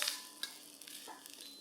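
Vegetables stir-fried in a carbon steel wok on an induction cooker, giving a steady soft sizzle broken by a few short scraping stirs near the start and middle, with no voices.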